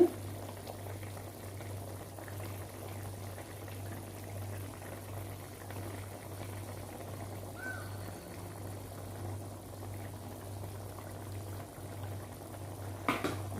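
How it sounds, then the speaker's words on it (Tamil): Egg gravy with tomato and onion bubbles at a steady boil in a pan, a quiet continuous simmering hiss and gentle popping with a low hum beneath and a brief clatter at the end. "முட்டை வந்து இப்போ சேர்க்க போகிற நல்லா கொதிச்சிருச்சுது"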